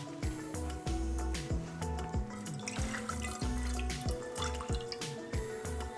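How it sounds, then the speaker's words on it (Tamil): Milk poured into a pan with ghee for carrot kheer, a run of quick liquid drips and splashes in an uneven, burbling rhythm, close and soft. "இப்போ 1/4 கப் பால் ஊற்றுறோம்."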